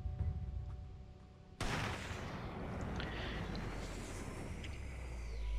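Sniper rifle shot in the mobile shooting game Sniper 3D Assassin, one sudden loud blast followed by a sustained rumbling, echoing tail with faint game sounds over it.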